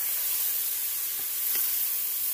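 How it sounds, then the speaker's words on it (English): Chopped onion and celery sizzle steadily in piping hot oil, a close, even hiss with faint crackles and a couple of soft stirring knocks. "what I'm going to do is put it in this piping hot oil"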